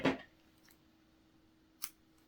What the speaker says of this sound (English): now I'm going to cut the yarn